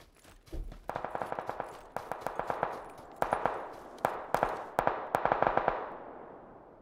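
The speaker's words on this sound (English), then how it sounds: "Who's he shooting at?" Gunfire in PUBG, repeated bursts of rapid automatic shots echoing off the surroundings, each volley a tight string of sharp cracks with short pauses between, moderately distant and with no voices.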